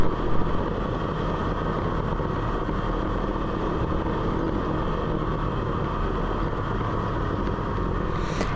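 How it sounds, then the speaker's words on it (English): A 2024 Polaris RZR XP 4 1000 drives along a smooth trail, its engine a steady, dense drone with a faint whine riding on top, continuous and fairly close throughout. "in this video you can probably hear the engine noise quite a bit"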